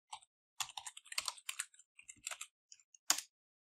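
Quiet, close keystrokes on a computer keyboard come in quick irregular bursts with short pauses, while JavaScript code is being entered.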